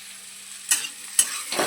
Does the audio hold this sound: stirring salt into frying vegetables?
yes